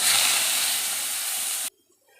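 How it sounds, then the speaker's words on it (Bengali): Carrot pieces hit hot oil with mustard seeds in a wok, giving a loud, steady frying hiss that holds for about a second and a half and then cuts off abruptly into near silence. "এরপর দিয়ে দেবো গাজরের টুকরো।"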